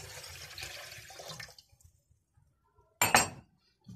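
Orange juice poured into a blender while making orange basbousa: a short splash and glassy clink after a quiet moment, following earlier kitchen handling noise.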